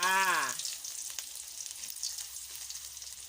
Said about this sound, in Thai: แล้วเราก็จะมาเจียวกระเทียมใส่แบบนี้จ้า